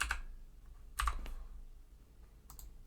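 Keystrokes entering a shooter's number on a computer keyboard in shooting-sports payout software, a few quick clustered clicks with pauses between, close and clear, no voices.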